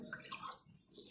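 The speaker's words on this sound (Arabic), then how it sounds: "كنزيد نشلو بشويه د الماء." Water poured into flour with a little oil while mixing Moroccan kersa flatbread dough, a brief, close, splashy trickle heard on its own.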